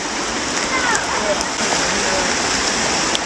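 A creek rushes and splashes close by near a bush waterfall, a steady hiss of flowing water that carries on evenly, with faint voices beneath it.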